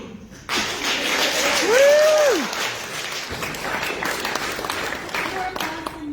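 Audience clapping at a fan convention panel, broken claps with voices and a whoop in the room, thinning into scattered claps toward the end.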